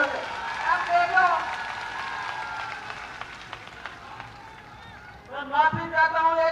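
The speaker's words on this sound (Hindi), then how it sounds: "जोरदार स्वागत करें, जोरदार तालियों से" A crowd at an outdoor government camp event claps to welcome a speaker, a broad rushing wave of applause that swells at the start and again near the end, with voices over it.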